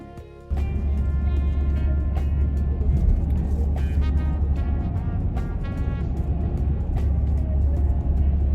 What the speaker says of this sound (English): I am in my car. I am driving.